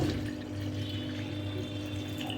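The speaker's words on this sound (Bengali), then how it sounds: "এই যে দেখো আমি ঠিক পরিমাণ মতো জল দিয়ে দিচ্ছি" Water poured steadily into a cooking mixture in a home kitchen, a continuous close rushing trickle with no talk.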